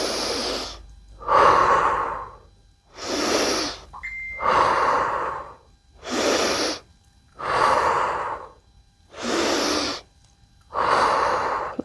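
Slow deep breaths during a yoga-inspired home workout, with long airy inhales and exhales alternating evenly, about eight breaths, close and loud with short pauses between them and no talking.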